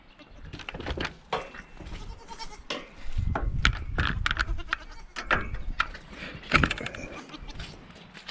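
Large goats in a goat barn bleat repeatedly and loudly at close range, overlapping cries mixed with clattering and shuffling movement, with a voice briefly heard among them.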